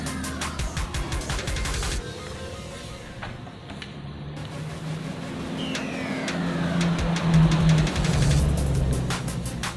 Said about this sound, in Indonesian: Untuk mesin Konica Minolta Bizhub